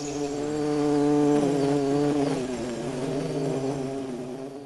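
Stingless bees in the Amazon rainforest make a steady, close buzzing drone with shifting pitch that holds throughout, with no talking.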